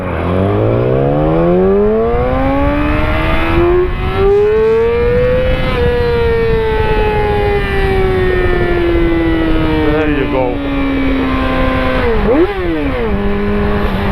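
A motorcycle accelerating hard as the throttle opens on the road, loud engine pitch climbing through the gears with a brief drop and rise near the end, heard alone.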